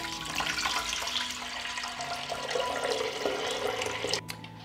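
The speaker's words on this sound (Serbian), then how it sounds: "Moj lonac je zapremine 6 litara i dodajem litar hladne vode." A litre of cold water pours into a 6-litre pressure cooker holding glass jars, a steady close splashing gush that tapers off near the end.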